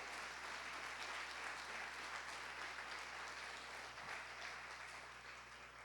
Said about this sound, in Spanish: Dale fuerte el aplauso al Rey.